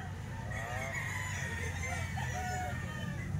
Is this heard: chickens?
yes